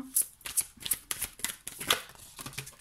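Tarot cards are handled and drawn from a deck, making a rapid run of crisp flicks and slaps close up, with a faint voice now and then.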